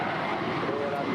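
A Kalitta Air Boeing 747-400ER taxis at Los Angeles International Airport, its jet engines giving a steady, fairly distant rumbling roar.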